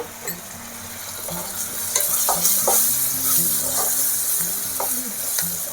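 Garlic paste and turmeric sizzle in a pan for a moringa and prawn curry, a steady bright frying hiss with a spoon stirring and scraping in soft irregular strokes, close up and without voices.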